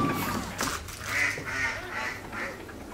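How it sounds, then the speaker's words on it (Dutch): Several ducks quack repeatedly close by, their nasal calls rising and falling over a rustling background. "ik hoor gelijk gekwaak"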